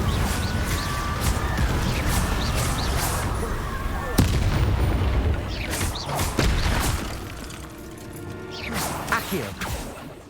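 Confringo blasting spell in Hogwarts Legacy: a sharp explosive crack partway through, set within a dense, continuous rumble of spell effects and combat noise, with further bursts and clattering toward the end.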